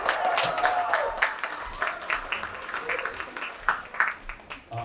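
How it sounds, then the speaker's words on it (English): Audience applause at a belly dance evening show, a crowd clapping and cheering after the performance, loud at first and gradually thinning out with scattered claps toward the end. "Give them another round of applause."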